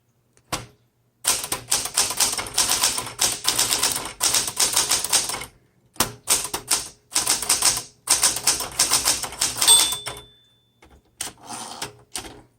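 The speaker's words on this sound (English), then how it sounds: "I can't talk and type at the same time." A 1969 Smith Corona Super Sterling typewriter is typed on in rapid bursts of crisp key strikes, with short pauses, a carriage sound and a bell ding near the end, all close and loud with no talking.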